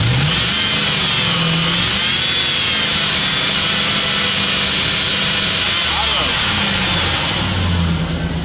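A ZIL truck engine, with a pressure problem that appears on throttle, revs hard and holds at full throttle in a loud, sustained roar with slight wavering in pitch, while voices speak under it.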